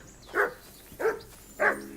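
A dog in the video game Kingdom Come: Deliverance II barks three times at an even pace, short sharp woofs, close and clear over a quiet background.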